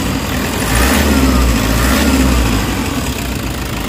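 A Toyota HiAce engine with low power and delayed throttle response revs steadily, its loud close drone swelling slightly in the middle before settling back toward idle, with no voices over it.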